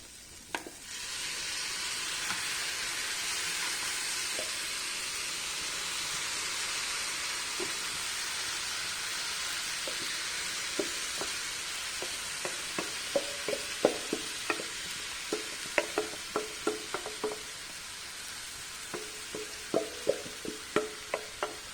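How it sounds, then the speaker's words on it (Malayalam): Salted mango pieces for pickle frying in hot oil, a steady close sizzle and hiss joined later by repeated clattering stirs of a spoon against the pan, growing more frequent toward the end, with no voices. "അപ്പം നമുക്ക് അല്പം തീ അങ്ങോട്ട് കൂട്ടി വെച്ചതിന് ശേഷം മാങ്ങ ഇട്ട് കൊടുക്കാവേ"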